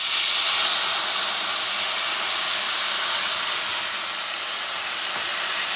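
Beef stock hits a hot pan after a seared tenderloin, giving a loud, broad steamy hiss that holds steady and eases slightly in the last seconds.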